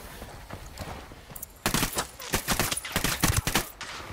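Rapid bursts of gunfire from the Ghost Recon Wildlands game during a mission on a coca farm, loud clustered volleys in the second half after a quieter start.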